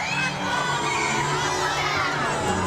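Children and a crowd cheering and shouting along a street during a sausage race at the Grafton Christmas Parade, a loud continuous roar of high voices close by.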